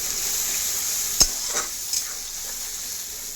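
Spices hiss and sizzle in hot oil for a cauliflower curry, a steady bright frying noise with a few sharp spatula taps and scrapes against the pan.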